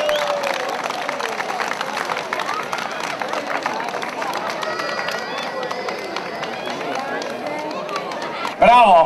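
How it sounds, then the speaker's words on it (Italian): Crowd applauding at the award ceremony of Valbrona's Sagra della Trota trout festival in 2011, a continuous wash of clapping mixed with cheering and chatter, ending in a sudden loud burst close by. "prego, un bel applauso"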